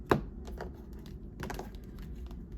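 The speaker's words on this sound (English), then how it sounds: "All right, so I'm shuffling anyways." Soft, close papery taps and riffles of tarot cards being shuffled, a few quick bursts in an otherwise quiet room.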